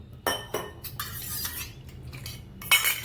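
Spinach and sorghum flour paste being stirred together in a pot for palak gargatta bhaji, with a few loud metal spoon scrapes and clinks against the pot, then quieter intermittent scraping, close up and with no talk.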